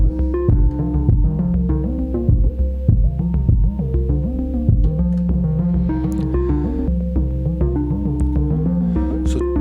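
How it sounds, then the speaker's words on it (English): Kick drum samples from a 40-kick chain on an Elektron Octatrack, playing within a full looping electronic mix with a steady low thump under sustained harmonic synth tones, loud and continuous for the whole stretch, with no voices. "So I have a chain of 40 different kicks that I can select,"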